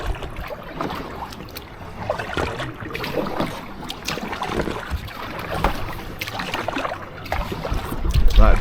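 Kayak paddled with 230 paddles across an aqueduct channel, heard as repeated water splashes and dips over breezy wind noise on the microphone, steady and close.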